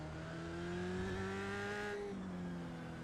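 A high-pitched Formula race car engine in the iRacing sim drones steadily, holding revs then dipping slightly, a continuous buzzing whine with no voices.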